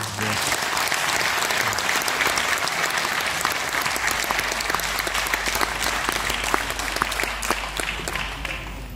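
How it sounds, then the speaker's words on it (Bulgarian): Sustained applause from an audience fills the whole stretch, dense and steady clapping without pause. "Моля, посрещнете с аплодисменти Хайгашот Агасян."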